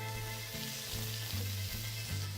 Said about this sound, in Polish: Całość obsmażę na złoty kolor.